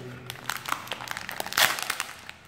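Plastic packaging for Brother P-touch D200LB label tape being torn open along its notch, crinkly crackling tears in short bursts with one louder rip near the end, close up.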